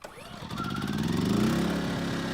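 A portable generator switched to propane mode on choke cranks and catches, its engine rising from a sputtering start into a steady mid-pitched running hum, fairly close and moderately loud.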